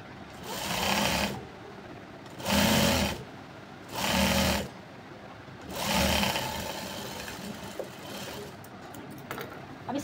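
Sewing machine stitching the waist seam of a jacket, running in four distinct bursts of steady whirring with short pauses between, close and clear.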